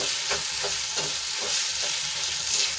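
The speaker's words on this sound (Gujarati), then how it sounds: "આપણા આદુ લસણ અને મરચાં સંતળાઈ જાય એટલે એમાં આપણે ક્રશ તેલેલી તુવેર ઉમેરી દઈશું અને બધું સરસ રીતે મિક્સ કરી દઈશું" Ginger, garlic and chilli sautéing in hot oil in a pan with crushed pigeon peas, a steady close sizzle with soft rhythmic stirring scrapes throughout, no voices.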